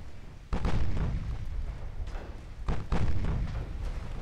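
Heavy 19-inch naval guns fire in Ultimate Admiral: Dreadnoughts, two deep booming salvos a couple of seconds apart, each rolling into a long rumbling tail.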